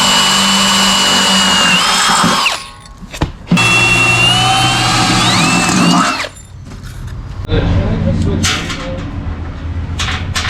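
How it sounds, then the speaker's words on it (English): A power drill bores holes for a universal fan shroud bracket on a car, the motor whining loudly in two bursts separated by a short pause, with quieter tool noise afterward. "Just gotta drill it."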